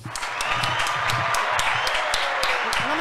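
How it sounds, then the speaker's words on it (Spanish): Studio audience applauding on a Spanish-language music program, a steady dense wash of clapping that holds at full level for about three seconds with a few voices mixed in. "Aplauso, por favor."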